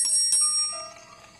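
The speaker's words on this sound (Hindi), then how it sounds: "ये दादी की पूजा की घंटी है के?" A prayer bell in a Granny video game rings with two quick bright metallic strikes close by, the high tones lingering and slowly fading.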